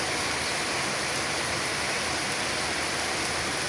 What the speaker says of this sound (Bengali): দেখুন, অনেক জোরে বৃষ্টি নেমে পড়েছে,